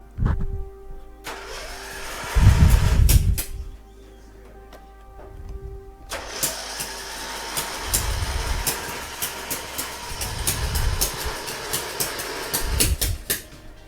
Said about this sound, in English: hopefully this new carburetor is going to get our mower up and running